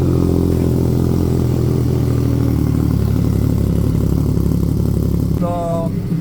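CF Moto 675 SR-R motorcycle with an IXIL full exhaust and no silencer or dB killer, idling loud and close with a rough, steady low rumble and clatter, followed by a brief sharp rev near the end.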